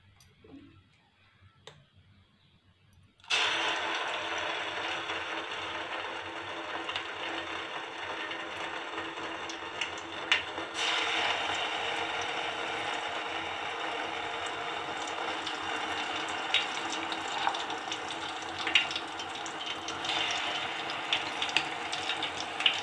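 Homemade hair oil paste is dropped into oil heated on a stove, starting a sudden continuous sizzle and crackle that keeps going close and steady with small pops.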